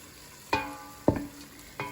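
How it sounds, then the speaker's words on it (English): Garlic and onions sautéing in a soup pot, with three separate spoon scrapes and stirs spaced out over a faint, quiet background sizzle. "Now you're gonna saute the garlic with the onions for about a minute."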